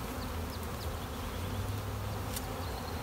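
Honey bees buzz around an open hive during an inspection, a dense, steady drone with individual bees zipping past close by, moderately quiet and continuous, with no talk.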